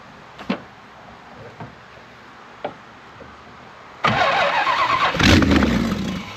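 A hot-wired 1968 Plymouth Road Runner with no headers or manifolds cranks over after a few faint clicks, then bursts into a loud, raw, unmuffled engine roar that keeps running close by.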